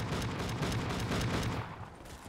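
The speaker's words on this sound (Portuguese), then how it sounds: "Só vem que eu vou atirando aqui, cara." Rapid gunfire from a Black Ops 3 custom zombies map, Octogonal Ascension: a dense, loud stream of repeated shots for about a second and a half, then tapering off.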